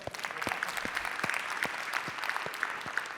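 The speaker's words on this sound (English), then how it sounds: "Let's give him a round of applause" A crowd at a business talk given by an NFL offensive lineman claps in a steady round of applause, many hands close together with distinct individual claps standing out.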